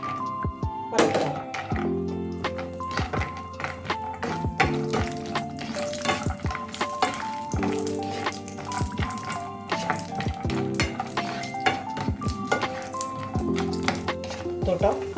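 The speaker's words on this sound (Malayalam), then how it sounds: "കശുവണ്ടി വറുക്കാം." Cashews frying in ghee in a pan for payasam give a steady, quiet sizzle, broken by frequent clinks and thunks from stirring, while someone talks over the cooking.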